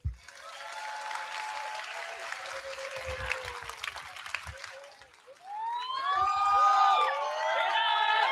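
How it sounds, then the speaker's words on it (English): A convocation audience gives a round of applause for graduating students, a steady wash of clapping that fades out and then gives way to rising and falling siren-like tones. "please join me in congratulating the graduating cohort with a round of applause"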